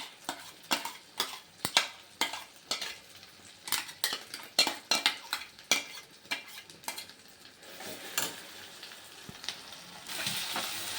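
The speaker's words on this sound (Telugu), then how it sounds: "మనం మిక్సీ పట్టుకున్న గోంగూర మొత్తం వేసేసి బాగా కలుపుకోవాలి" Gongura paste being stirred into hot oil in a pan for gongura pachadi, a steady run of scraping spoon strokes and clinks with a soft sizzle underneath, close and fairly loud, with no talking.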